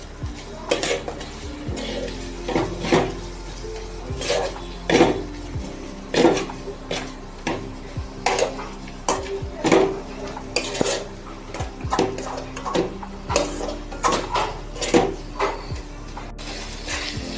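Ground spices being stirred in a cooking pot for a simple Bengali chicken curry, with a utensil scraping and knocking against the metal in a steady, repeated rhythm, close and fairly loud, no talking.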